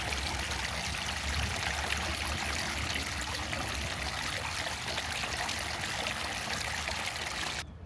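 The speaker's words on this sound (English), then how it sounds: "I need to listen to that water." Steady trickling and splashing of a garden water feature at a flower show, a continuous close wash of running water with no talk over it.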